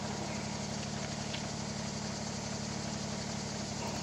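Tractor engine running steadily while gathering oak logs on the edge of a field, a constant close, throbbing drone with a rapid rhythmic pulse and no speech.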